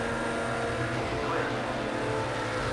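Race cars in Project CARS 2 roar past during an IMSA GTD race at Watkins Glen, with P2 Ligier and Merrick prototypes overtaking. The engine noise is loud, dense and unbroken throughout.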